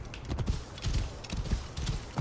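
A horse's hooves clop in a quick, rhythmic trot in Assassin's Creed Origins, fairly quiet, with the beats arriving in short bursts and no talk over them.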